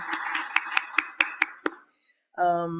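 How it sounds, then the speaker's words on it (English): A few hands clap in a small round of applause at a poetry celebration, with distinct, close claps in an uneven rhythm that stop after under two seconds, followed by a brief silence and then a voice speaking. "Give her a round of applause."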